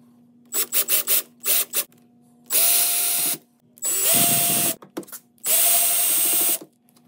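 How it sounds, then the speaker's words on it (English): A power drill backs out the four screws on an Arcade1Up cabinet's control panel: several short close whirring bursts, then three longer buzzing runs separated by brief pauses, with no talking. "Remove the 4 screws."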